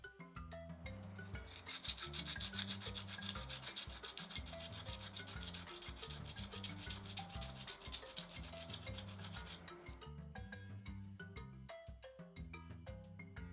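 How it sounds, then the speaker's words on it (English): Sandpaper rubs a small wooden leaf pendant in quick, steady rasping strokes for about ten seconds, then stops, with background music playing throughout. "You can also sand one side of the leaf more than the other, just so it doesn't look flat."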